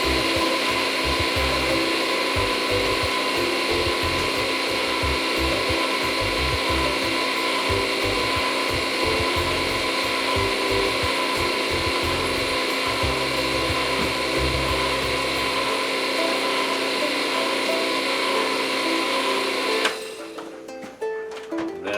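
A loud blender whirs steadily with a dry, gritty grinding of freeze-dried eggs for about twenty seconds, then cuts off, leaving brief rattling and clatter.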